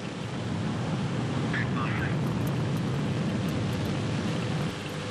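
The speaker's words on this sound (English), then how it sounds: "Turbo pumps up to flight speed and liftoff." Soyuz rocket carrying the uncrewed Soyuz MS-14 spacecraft lifting off with turbo pumps at flight speed: a steady, broad roar with hissing rumble, sustained and even for about five seconds.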